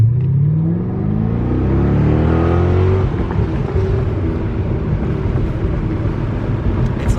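A C6 Corvette with a manual gearbox revs hard as it accelerates, its engine note climbing loudly through the first gear and then dropping at a shift before pulling on again in a rougher, steady drone close by.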